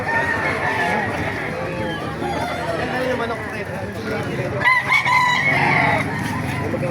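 Roosters crow repeatedly over a busy crowd at a chicken market in Baliuag, Bulacan, with clucking hens and people talking in the background.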